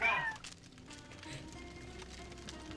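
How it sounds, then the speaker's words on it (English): A cat in the adventure game The Lost Crown gives one short, fairly loud meow at the start, then only quiet ambient background follows. "we found a cat!"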